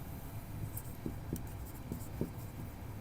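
Chalk or marker taps and scratches on a board as a teacher writes, leaving faint, brief strokes in an uneven rhythm under a steady hiss of room noise.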